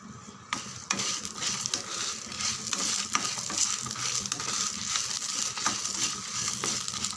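Two sprigs of curry leaves with their stems frying in a pan for an idli and dosa podi, a dense, close sizzle and crackle with occasional spoon scrapes against the metal.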